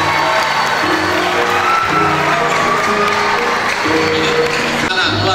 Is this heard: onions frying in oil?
no